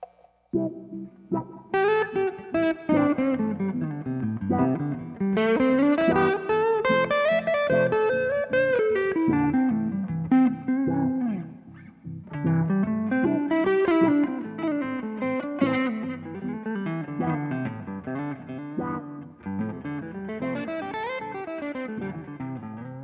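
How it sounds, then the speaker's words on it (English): An electric guitar run through distortion and effects climbs up and down the pentatonic scale in flowing, scale-like runs, played loud and continuous with no talking. "I'm going to purposefully make it sound a little scalular so you can actually hear the pentatonic scale"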